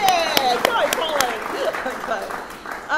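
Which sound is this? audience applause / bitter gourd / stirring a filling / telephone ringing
audience applause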